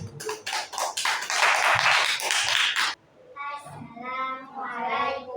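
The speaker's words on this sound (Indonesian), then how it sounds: "Oke, tepuk tangan untuk kelompok yang maju." A classroom of primary school pupils claps for a presenting group, about three seconds of dense, loud clapping that then stops, after which someone speaks.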